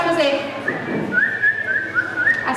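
Children whistle in imitation of a bird's chirp, a string of short, high, bright whistled notes repeating close by, with voices murmuring in the background.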